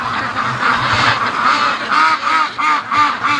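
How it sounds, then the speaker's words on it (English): Free-range ducks give loud, close, repeated honking quacks in a rhythmic series, heard on their own without talk. "Well, the ducks,"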